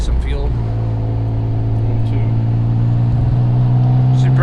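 A rebuilt forged twin-turbo Mitsubishi 3000GT with a 6G72 V6 runs with a steady, loud engine drone and a constant low hum heard from inside the car, holding an even level with no clear rise in pitch.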